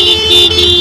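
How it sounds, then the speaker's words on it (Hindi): Car horns blare in busy Karbala street traffic, a loud, sustained honking that swells and dips slightly across a brief moment. "इतनी हॉर्न, ओहो"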